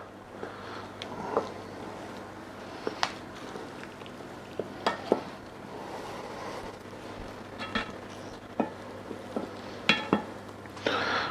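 Braised short ribs are turned in their cooking liquid with tongs, scattered soft clinks and knocks against the pot over a quiet, low simmer, close and unhurried, with no talk.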